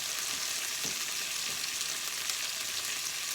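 Steak frying in a pan, a steady close broadband sizzle with faint low bumps near the start, no voices.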